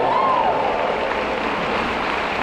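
Audience applause in a theater comedy show, a steady broad wash of clapping from a large crowd, even and sustained throughout, with a brief whistle near the start.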